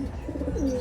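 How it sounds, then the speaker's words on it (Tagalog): A racing pigeon gives a soft, low, throaty coo. It is close and continuous but brief, with a faint background hum. "Yan naman yung ibon."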